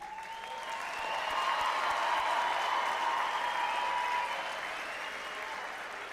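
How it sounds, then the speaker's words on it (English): Sustained audience applause fills a graduation ceremony hall, a dense steady wash of many hands clapping that swells slightly and holds for several seconds, with a faint tonal hum underneath. "Please raise the roof a little wider with a little deafening sound of applause"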